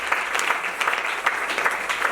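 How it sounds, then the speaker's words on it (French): A church congregation applauds during a pastor's sermon, a dense, continuous round of clapping at moderate volume with no voices over it. "Si on peut applaudir"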